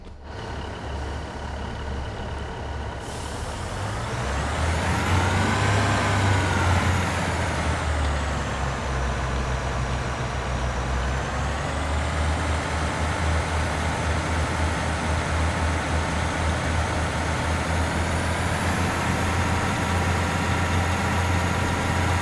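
Class 150 diesel multiple unit pulling away in Train Sim World's Cardiff network: the engine note rises and sweeps in pitch as it accelerates, then settles into a steady, loud diesel drone.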